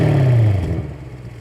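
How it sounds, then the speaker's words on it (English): Twin-turbo V8 of an Audi S8, a loud, close engine note that drops in pitch as the revs fall away, over about a second and a half with no voices. "This is a twin turbo V8"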